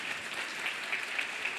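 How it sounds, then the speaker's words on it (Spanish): Steady audience applause welcomes a speaker onto the stage at a design biennial in Córdoba, a dense even patter of many hands, moderately distant, with no talk over it. "Y la recibimos con un fuerte aplauso también"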